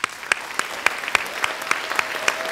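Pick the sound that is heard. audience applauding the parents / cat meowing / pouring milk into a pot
audience applauding the parents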